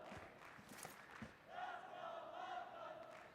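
A crowd in an esports arena roars during a PUBG Mobile World Cup match, with scattered distant shouts first, then a sustained swelling cheer in the second half.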